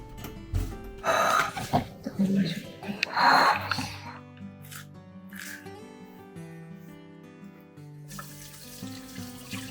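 Tap water runs into a kitchen sink while dishes are washed, a steady splashing rush with clinks and brief louder bursts, soft music playing underneath.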